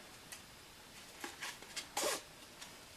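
Sharp scissors snip satin ribbon at an angle close up, making several quick, faint crisp cuts that are scattered irregularly over a quiet background.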